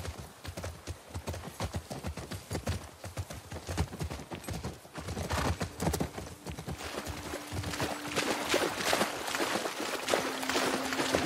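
Horse hooves in The Last of Us Part II clip-clop in a steady walking rhythm, close and clear, continuing throughout with a faint tonal hum surfacing partway through.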